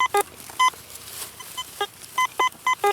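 A metal detector hunting Civil War relics in Georgia and Tennessee sounds a series of short, clear, high beeping tones on a non-iron target, repeating in quick uneven bursts close by.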